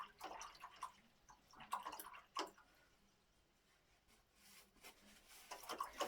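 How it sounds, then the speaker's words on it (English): A watercolor paint brush being swished and rinsed in a water pot, soft irregular swirling and tapping against the container in close bursts with a quieter lull midway, no speech. "I just need to wash this brush out."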